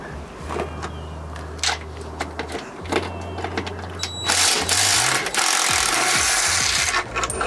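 Power tool run against a bolt through a trailer, an impact wrench with a long socket: a low motor hum in stretches, then a loud, harsh, continuous rattling burst for the last few seconds, close by and with no speech.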